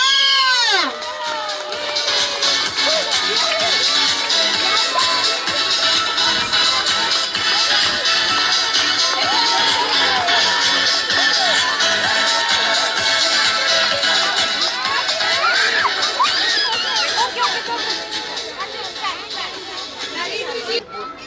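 Loud crowd cheering, shouting and applause at a children's race during a school health day, with excited children's voices and chatter filling the space throughout.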